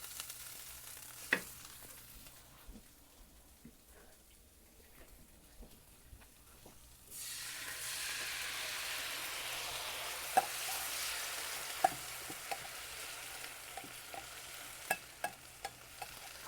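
Canned chicken and Rotel tomatoes are stirred together in a pan, with quiet scattered clinks at first, then a steady low sizzle that starts partway through and continues under occasional sharp utensil taps, with no talking.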